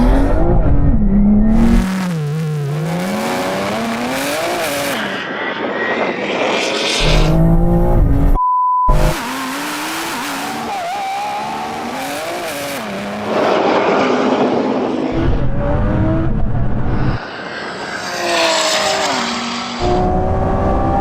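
Lamborghini V12 and four-wheel-drive cars in a video game drag race: loud engines rev and shift repeatedly, rising and falling whines with a brief gap midway, running continuously without talk.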